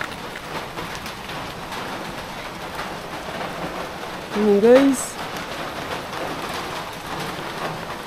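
Sudden rain falls outdoors near trees, a steady soft hiss of drops throughout, with someone speaking briefly in the middle over it.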